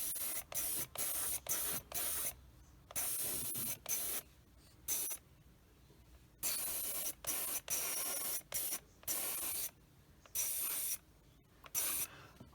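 An airbrush sprays paint onto a Bandai 1/72 X-Wing Starfighter model kit in short, repeated hissing bursts separated by brief pauses, close and steady, with no talking.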